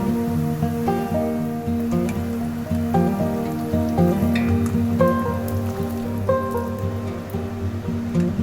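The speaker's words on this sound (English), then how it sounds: "I'm cutting flat bread into small squares and frying them until crispy." Small squares of flat bread frying in a pan until crispy, a fine continuous crackling sizzle heard close, running beneath steady background music.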